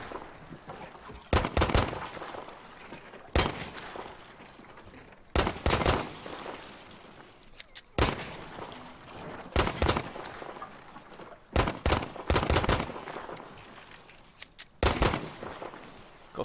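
Gunfire in the Battlefield 5 practice range: repeated loud bursts of rapid automatic fire and single shots in clusters, separated by short pauses, with someone occasionally talking between volleys.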